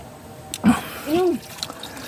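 Water is poured at home where it is drawn for drinking, a brief splash followed by a short gurgling pour, faint and close, with quiet gaps around it.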